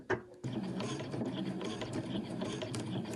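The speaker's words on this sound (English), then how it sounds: "and then I'm going to back stitch," A sewing machine back stitching along the piping of a cushion cover, running as a steady continuous mechanical whir with fine rattling texture after a brief click at the start, close and fairly quiet.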